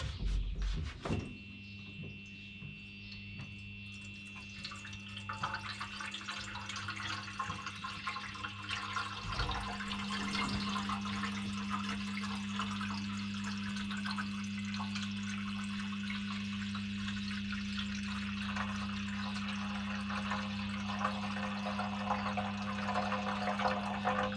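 Water pours steadily into a homemade jet boat's water tank with a constant hissing rush, close and moderately loud, after a brief clunk at the start.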